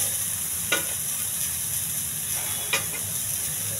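Onions frying in a cumin tempering for a chickpea dish, a steady broadband sizzle with two brief stirring scrapes, close and alone with no talk.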